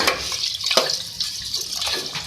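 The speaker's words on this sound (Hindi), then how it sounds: "2 लीटर इसके अंदर मैं पानी ऐड कर रही हूँ।" Two liters of water splash and gurgle as they are poured into a cooking pot for beef biryani stock, with uneven bursts and splatters close by.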